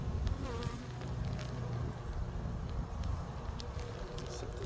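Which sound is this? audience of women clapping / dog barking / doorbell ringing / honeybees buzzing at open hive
honeybees buzzing at open hive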